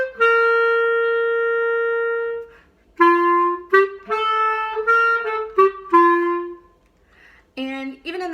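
First clarinet plays measure 46 of a piece alone: a long sustained note, then a series of short, clear tones stepping between pitches with brief gaps, close and steady in volume.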